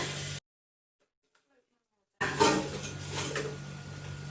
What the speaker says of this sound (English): I'm going to put these into my big saucepan